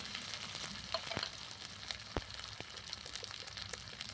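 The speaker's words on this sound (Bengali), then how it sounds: "আদা রসুনটা বাটাটা একটু ভালো ভাজা করে নিলাম" Ginger-garlic paste fries in oil over a clay stove for shrimp bhuna, a soft continuous sizzle with a few faint scrapes and taps, no talk.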